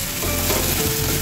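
Tomato paste for a fish jhal sizzling in hot oil in a pan, a steady dense frying hiss with a faint stirring scrape, close and continuous with no talk.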